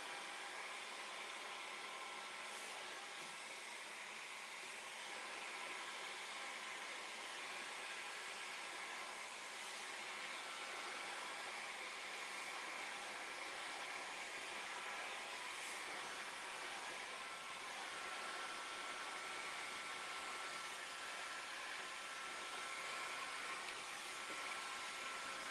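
Hair dryer blowing warm air over a freshly painted chair to dry the paint, a steady broadband whoosh that runs continuously and evenly at moderate level throughout, with no talk over it.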